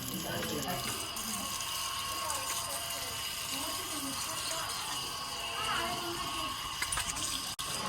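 Water splashes and streams steadily as it is poured out for sprinkling, like pouring from a tap or container, continuous and fairly close with small clanks near the end.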